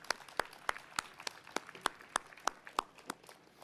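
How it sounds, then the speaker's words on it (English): A lone pair of hands claps slowly and evenly, about a dozen crisp, spaced claps, during a city's State of the Address gathering in Troy, heard fairly close against a quiet room. "I'm applauding for it myself personally."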